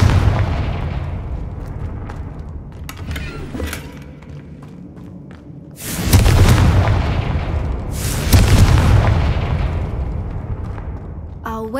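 Confringo blasting spell explosions in the video game Hogwarts Legacy, two loud booming bursts with rumbling tails, heard after a stretch of softer game ambience and a little spoken dialogue.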